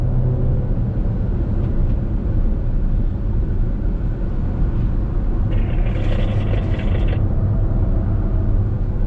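An MG Astor SUV drives fast through curves at around 120 to 130 km/h, its engine and tyre roar a loud steady rumble with a short high whine partway through.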